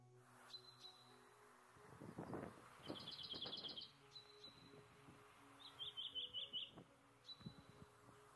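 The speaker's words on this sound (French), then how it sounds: "on peut écouter le son du pinson?" Recorded common chaffinch song played back: short accelerating trills of bright chirps in separate bursts, alternating with single call notes, over a faint low hum and some background rustle.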